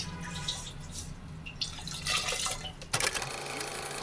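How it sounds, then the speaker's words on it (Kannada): Water pours into a simmering fish sambar of bangude mackerel, starting as faint trickling and splashing, then swelling into a sudden, louder steady pour near the end, with no speech. "ನಾನು ಇನ್ನೊಂದು ಸ್ವಲ್ಪ ನೀರು ಸೇರಿಸ್ಕೊಳ್ತೀನಿ"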